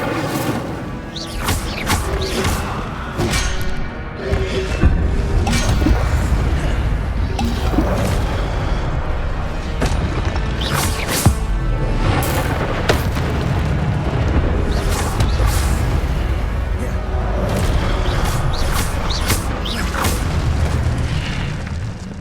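Fire spell being cast in the video game Hogwarts Legacy, rumbling booms and crackling bursts with sharp crashes repeating over a continuous roaring bed, loud and close throughout.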